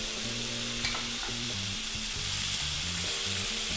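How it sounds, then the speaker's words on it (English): Lamb chops sizzle loudly and steadily in a hot pan, a constant crackling hiss with a low background hum. "Sizzle, sizzle, sizzle."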